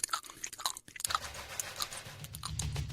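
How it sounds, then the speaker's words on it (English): Close, wet chewing with soft smacks and small crunches, heard up close at low volume, with a faint rumble near the end. "Not even chewing real gum."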